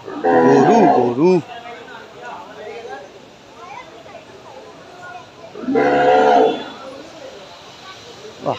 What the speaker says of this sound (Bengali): প্রচুর গরু, প্রচুর প্রচুর